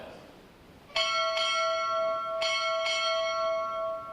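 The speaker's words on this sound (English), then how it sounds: "strike 4 bells" A naval ship's bell is struck four times in two quick pairs at a U.S. Navy Recruit Training Command graduation ceremony, each bright, ringing strike clear and close and left to sustain over a quiet hall.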